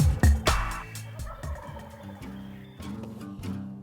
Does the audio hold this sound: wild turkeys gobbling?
yes